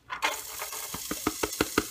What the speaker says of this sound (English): you should hear that nice sizzle and you know that it's ready